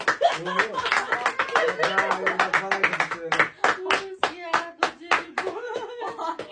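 Hands clap in quick, close bursts during a pregnancy announcement, the sharp claps mixed with excited voices talking and laughing.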